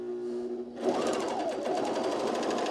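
A sewing machine runs steadily, stitching a seam on a pair of pants with a hum and fast rhythmic needle chatter that starts abruptly after a short hum and continues at an even pace.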